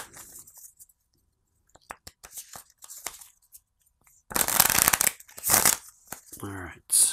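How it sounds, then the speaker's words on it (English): Marvel Legendary cards shuffled by hand at a tabletop game, heard as brisk, close riffling and crinkling bursts in the later part after quieter handling and taps. A person speaks during the clip. "that'll get moved in and shuffled up"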